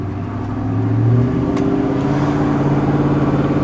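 A 1984 Chevrolet K10 short-bed 4x4 pickup accelerates through its gears. The engine hum is loud and close, climbing in pitch, dropping at a shift, then pulling steadily again with no talking.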